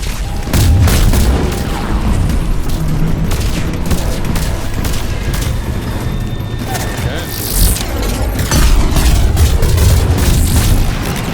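Loud, heavy booms of explosions in Mass Effect 3 mix with crackling gunfire-like bursts in a dense, chaotic barrage.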